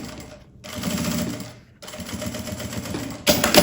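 A sewing machine stitches a fabric strap for a backpack in loud rapid bursts, with two short pauses between runs and a sharper clatter at the end.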